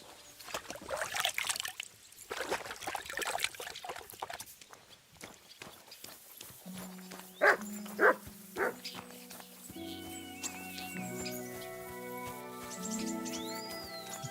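Dog barking in the video game Kingdom Come: Deliverance II, a few sharp distinct barks in a row amid ambient game sounds and a musical score, with no talk over them.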